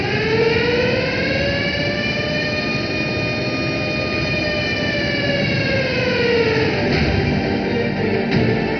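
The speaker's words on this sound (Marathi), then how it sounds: "सायरन वाजला" A loud wailing warning siren at Jayakwadi dam before all the floodgates are opened during floods, a sustained rising and falling tone that holds throughout, continuous and close.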